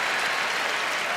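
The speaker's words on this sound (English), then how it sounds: "Well, they cheer anything here." A crowd of about 38,000 people cheers and claps in a stadium, a broad, steady roar of applause that fills the space with no distinct voices.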